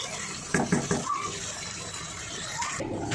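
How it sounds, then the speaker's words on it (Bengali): Hot water poured into a pot of boiled potatoes in a home kitchen, a brief watery splash and stream rising over faint room noise, with a few soft clatters before it. "দেখো এতে দিয়ে দিচ্ছি গরম জল"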